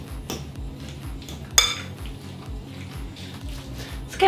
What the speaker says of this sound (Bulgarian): Хубаво разбърквам каймата.